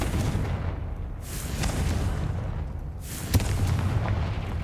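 Confringo fire spell explosions in the Hogwarts Legacy video game: two deep, rumbling booms a couple of seconds apart, each swelling and fading over steady game ambience, with a sharp crack near the second one.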